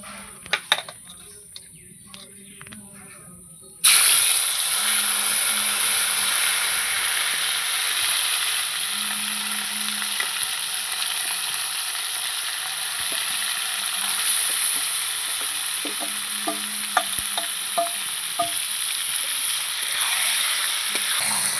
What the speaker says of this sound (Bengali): মাংসটা আমি এইভাবে কষিয়ে নেব বন্ধুরা